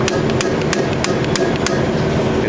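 Hammer repeatedly striking a tool on a forklift repair job to mimic an impact gun, six sharp metallic blows at a steady rhythm over constant background noise, close and loud.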